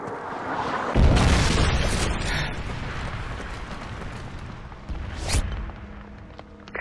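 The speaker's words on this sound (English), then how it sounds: "Friendly Predator missile inbound." A Predator missile explosion in the video game Modern Warfare 3: a loud deep boom hits and rolls off into a long rumbling decay, with a second sharper blast a few seconds later and no talk.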